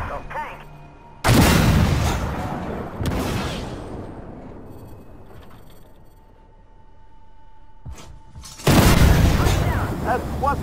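Tank battle in the Armored Warfare video game: heavy cannon booms and explosions hit loudly in separate bursts, with rumbling decay between them and a steady tone in the background.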